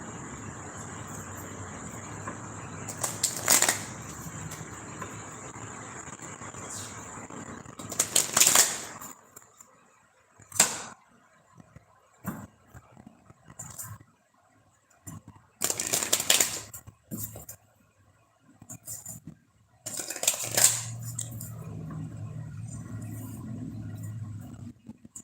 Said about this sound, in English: Do some shuffling while I wait.